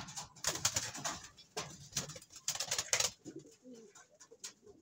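Pigeon cooing near a loft trapdoor, a fancier's bird returning to the loft: repeated soft coos and bursts of bird sound close by, with faint rustling between calls.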